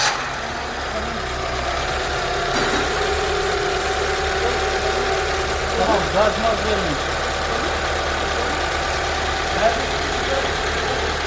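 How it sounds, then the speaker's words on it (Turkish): A repaired Dacia Sandero 1.2 petrol engine idles steadily in a workshop with its air filter removed, a continuous close mechanical drone with faint ticking, while people talk briefly over it. "Şimdi bir marş yapıp çalıştıralım ve sesini sizlere de dinletelim"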